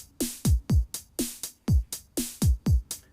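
A Roland JD-Xi synth plays a short drum pattern recreating a song: punchy kicks and snappy hits in a tight repeating groove, with partial hi-hat ticks and extra percussion, crisp and close with no voices.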